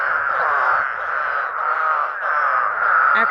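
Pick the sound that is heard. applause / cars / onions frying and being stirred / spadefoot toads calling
spadefoot toads calling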